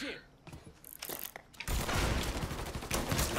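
Enemy gunfire in the Mafia 3 video game, rapid close bursts of shots building into a loud sustained fusillade of crackling fire that dominates the second half, with a few sharp single shots before.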